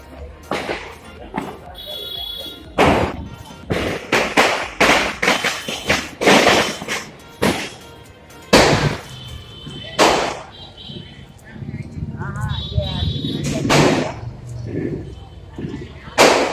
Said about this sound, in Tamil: இப்போ நம்ம வந்து குறி வெடிக்க போகிறோம் வாங்க.